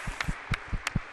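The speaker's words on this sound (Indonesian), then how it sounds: "Ya, tepuk tangan." A few scattered hand claps at a cultural talk-show taping honoring an artist, sharp separate claps close by in an irregular rhythm with no speech.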